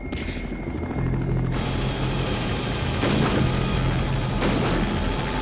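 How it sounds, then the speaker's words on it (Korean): A helicopter hammers loudly and steadily through a scene from a 1982 Antarctic monster film, while scattered sharp cracks of gunfire punch through the rotor noise near the middle and end. "헬리콥터를 탄 노르웨이 탐사팀은 한 마리의 개를 쫓아가며 총을 쏘고 있는데요."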